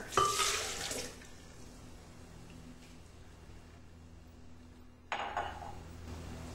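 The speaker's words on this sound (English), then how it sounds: "we start off by just pouring this right into our blender" Goji berries and their soaking water are poured into a blender, giving a steady close trickle and splash that runs for several seconds and then gushes again briefly near the end.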